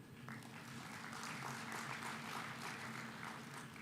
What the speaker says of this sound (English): you can give a big hand clap